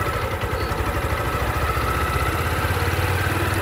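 A motorcycle engine runs steadily in first gear during a driving-school riding lesson, a continuous low, throbbing rumble that stays even and fairly close throughout, with no talking.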